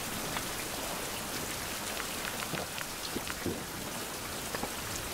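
Steady rain patters on the ground in a survival video game, with scattered louder drops popping over a dense, even hiss that continues throughout.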